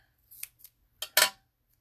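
Small, very sharp self-sharpening scissors snip a Christmas cactus: a few crisp close cuts, two soft ones then two louder snaps, in a quiet room.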